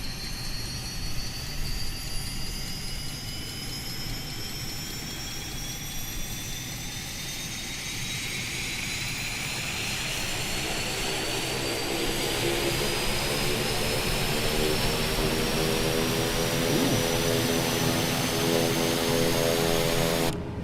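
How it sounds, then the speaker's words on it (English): Pilatus PC-12 turboprop engine starting up in a flight simulator, a steady rising whine that swells and thickens over a low rumble, building gradually to a loud sustained roar with no talk. "engine starter push button. Does sound great."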